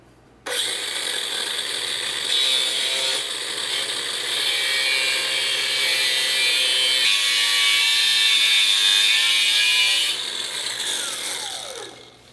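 A spinning cutter grinds into metal on a Yamaha V-Star 1300 bobber motorcycle part, a loud steady high-pitched whine with a harsh rasp that holds for about ten seconds before winding down.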